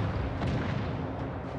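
Naval guns fire in World of Warships Legends, a dense continuous boom and rumble throughout, loud and close with no clear gaps between shots.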